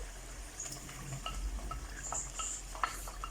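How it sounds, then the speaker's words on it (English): A spoon stirs canned tinfish in gravy inside a cooking pot, giving faint scattered scrapes and clinks against a low, quiet simmering hum, close by and with no voices. "Just give it a good stir."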